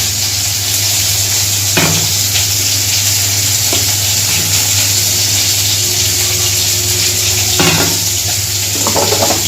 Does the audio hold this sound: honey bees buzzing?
no